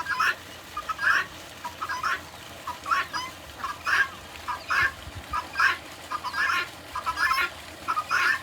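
Ducklings and white chicks peep and cluck in short, repeated bursts close by, a busy chorus of small birds with low background noise between calls.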